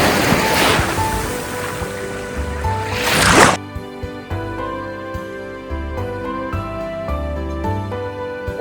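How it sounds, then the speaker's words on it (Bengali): Sea waves break on Dublagadi beach, a loud rushing surf for the first few seconds before it cuts off and music carries on. "এতক্ষণ পথ জুড়ে যে নীরবতা ছিল, এখানে এসে তা মিলিয়ে যায় ঢেউয়ের শব্দে।"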